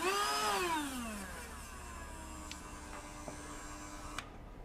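A Ryobi RHS01 rotary tool hobby station spins up with a rising whine that settles into a steady high-pitched motor hum, running on its own at close range with a few faint clicks before switching off.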